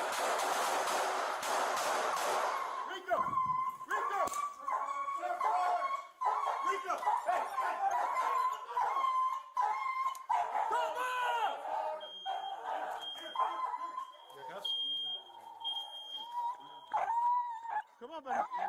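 An injured police dog whimpers, yelps and barks in distress after apprehending a suspect, its high cries close and repeated in uneven bursts while a handler talks over it.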